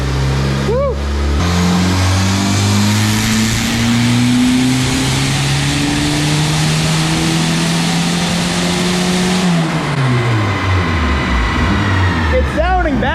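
A boosted Honda Accord engine revs hard on a dyno, close and loud, climbing steadily in pitch through a long pull before dropping back and settling into idle, with voices under the noise.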